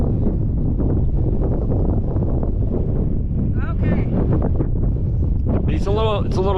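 Strong wind buffets the microphone on a lower stretch of the Mount Chapin Trail in Rocky Mountain National Park, a steady roaring rush throughout, with a voice and a brief whoop heard near the end.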